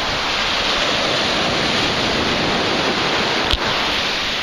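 Wind blowing hard at the shore, a loud, steady roar of rushing air mixed with surf, broad and unbroken with a single brief knock near the end.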